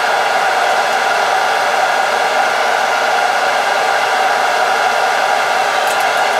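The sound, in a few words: hot air blower heating cable sleeving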